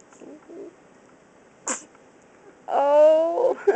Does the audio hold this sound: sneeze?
yes